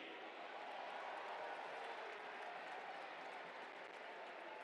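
Steady, dense applause from a stadium crowd at an on-field award ceremony for Palermo FC goalkeeper Mirko Pigliacelli, a continuous wash of clapping that holds at even loudness throughout.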